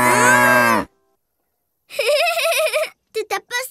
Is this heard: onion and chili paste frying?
no